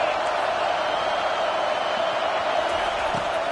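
A stadium crowd at a college football game keeps up a steady, dense roar while the opposing team is pinned deep in its own end. The noise holds at an even level throughout, with no single voices standing out.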